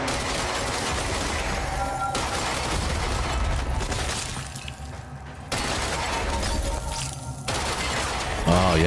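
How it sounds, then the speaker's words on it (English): Sustained gunfire in the video game Control as objects are shot apart, a dense, loud wash of rapid shots and shattering debris that runs almost unbroken, with brief dips in between. "Oh, but I can finally shoot this stuff"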